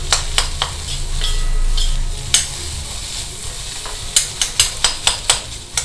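A spoon stirs and pokes mashed potato podimas frying in a pan, giving a soft sizzle under a run of sharp metallic scrapes and clinks that quicken into a rhythmic series near the end.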